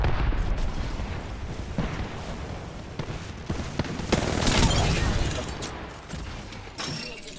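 Grenade explosions in the shooter game Apex Legends, a dense, continuous barrage of booming blasts and crackling bursts that stays loud throughout, with a few sharper impacts standing out in the middle.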